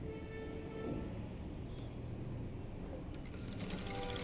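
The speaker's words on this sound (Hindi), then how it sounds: "फिर दूसरी तरफ से हम सिलाई लगाएंगे।" A sewing machine stitches the stand collar of a blouse, a steady low mechanical whirr running continuously at moderate level with faint higher ticks, no voices.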